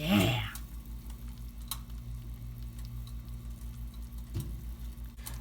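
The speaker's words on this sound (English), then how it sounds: "Look at now sizzling down a little bit, doing a little less sizzle and drizzle" Ramen noodles sizzle and fry steadily in a pan, a continuous low crackling hiss with a louder burst at the start and a brief stir near the end.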